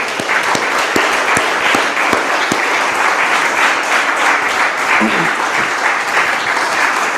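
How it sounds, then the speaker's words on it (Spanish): Sustained congregational applause fills a church service, a dense wash of many hands clapping steadily and loudly for the whole stretch with no pause. "¿Cómo no le vamos a dar un aplauso al Señor?"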